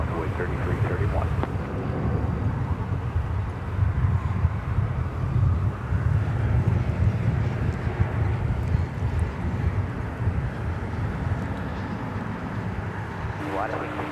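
An airliner arriving from Madrid at DFW airport gives a steady, broad jet roar that holds fairly level throughout, with faint wind noise and a brief voice near the end.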